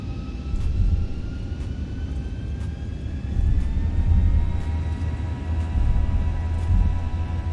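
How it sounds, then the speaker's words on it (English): Aircraft engines in a flight simulator spooling up to takeoff power: a steady low rumble beneath rising whining tones that climb in pitch, with faint periodic clicks, loud and continuous. "Get her spooled up here. We'll smoothly add takeoff power."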